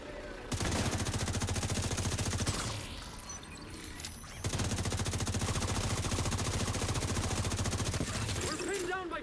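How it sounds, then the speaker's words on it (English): Turret gunfire in The Division 2, loud sustained rapid bursts of automatic fire that pause briefly mid-clip and then resume, close and dense, with faint game effects in the gap. "We're pinned down by turrets at the main gate!"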